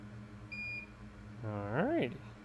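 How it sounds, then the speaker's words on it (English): A single short, clean electronic beep from repair equipment while working on a damaged thermal sensor on an A1706 board, followed by a person speaking close by. "Let's wait for the beep."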